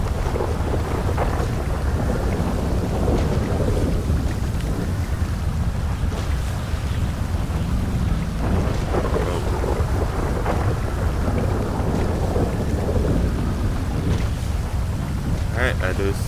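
Storm at sea in GTA 5, with rough wind and crashing water heard around a boat as a loud, constant roar that runs the whole time, with no clear thunder claps.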